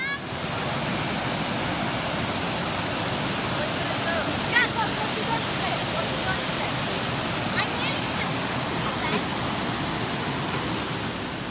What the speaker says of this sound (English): We're gonna visit this waterfall today.